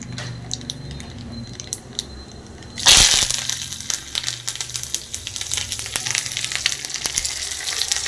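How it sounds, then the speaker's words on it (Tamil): Tempering spices dropped into hot oil for coconut chutney, a sudden loud burst of sizzling that settles into continuous crackling and popping, close up. "எண்ணெய் சூடாகிடுச்சு தாளிச்சிடலாம் உள்ளே போட்டுடலாம்"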